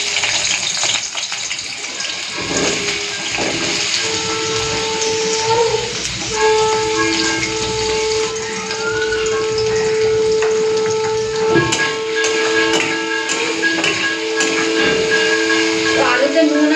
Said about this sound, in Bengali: তো আলুগুলো তেলের মধ্যে দিয়ে দিচ্ছি।